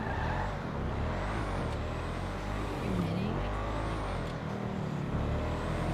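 A purple-underglow car in GTA Online drives with a steady engine drone and shifting pitch, continuous and fairly loud throughout, with no voices.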